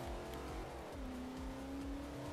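The Halo M12 Warthog's huge gasoline engine roars in the Forza Motorsport 4 racing game, a continuous, loud, throaty drone whose pitch climbs and levels off as the vehicle drives, with no talking over it.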